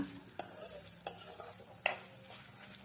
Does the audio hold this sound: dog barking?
no